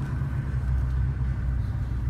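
A 2004 Ford F350 XLT crew cab FX4 turbo diesel pickup on a test drive, heard from inside as a steady, loud low rumble of the diesel engine and road noise, with no talk.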